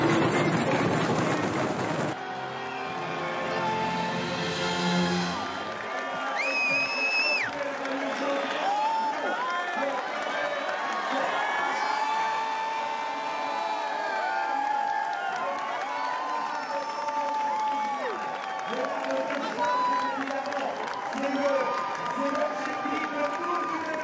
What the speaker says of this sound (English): a big round of applause for Cadel Evans when he makes his way to receive the yellow jersey for the first time